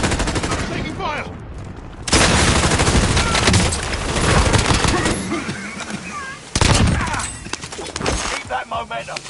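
Call of Duty: Warzone gunfire erupts in loud, dense automatic bursts and crackling volleys separated by brief lulls, with voices talking over the shooting.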